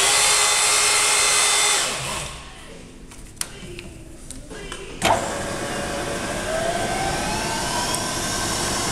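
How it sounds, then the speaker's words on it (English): A 5-flute carbide end mill spins at 1200 RPM, giving a steady high whine with a brief drop and sharp clicks before the cutting tone returns and holds evenly. "This is a 5-flute carbide end mill."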